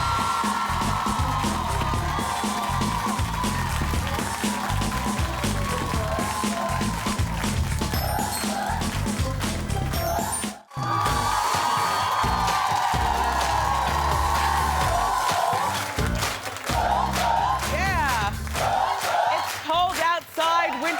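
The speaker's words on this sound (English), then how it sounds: "Clap it up again for Kellan Lutz" Studio audience at a daytime talk show roaring with sustained applause, cheers and whoops, loud and dense throughout, with a brief dip midway before the crowd noise swells again.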